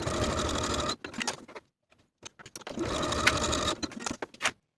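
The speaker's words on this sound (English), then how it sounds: "Sew both seams at 3/8 of an inch and then press the seams open" A sewing machine runs in two short bursts to stitch the shoulder seams of garment facing pieces, each a steady, close whirring run followed by a brief pause and a few quick stitches.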